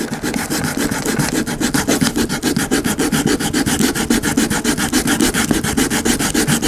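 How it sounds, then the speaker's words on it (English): Close, loud sanding of Bondo filler on an arcade cabinet, fast even back-and-forth strokes rasping without a break. "we're just gonna keep sanding this down until we get it flush"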